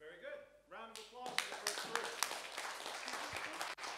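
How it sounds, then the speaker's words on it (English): Applause from a workshop audience at a business forum, a crowd of hands clapping that rises after a voice speaks and carries on steadily, with sharp individual claps standing out. "Round of applause."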